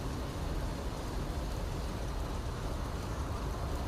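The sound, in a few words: rain in video game Fallout 4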